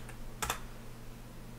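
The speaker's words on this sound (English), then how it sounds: "And then you simply just need to type lime rebuild.windows." A command is typed on a computer keyboard, a quick close burst of two or three key clicks over a steady low electrical hum.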